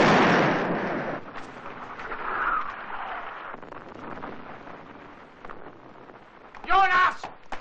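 Artillery shells pound a bridge in a 1960 war film, a heavy rumbling blast fading into roaring debris and wind noise, with a shout breaking through near the end.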